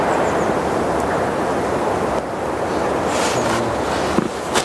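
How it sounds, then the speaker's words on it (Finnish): Strong wind blows outdoors in a Nuuksio forest setting, a steady, loud roar and buffeting across the microphone with brief gusty swells and no voices. "Aika napakka tuuli."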